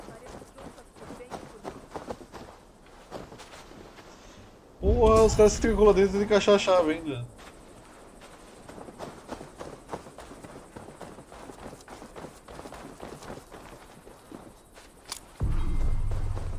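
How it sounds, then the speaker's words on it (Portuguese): Horse hooves clopping in Assassin's Creed Valhalla, a steady rhythmic galloping patter running through the scene, interrupted by a burst of game dialogue and someone speaking over it. "Cavalo."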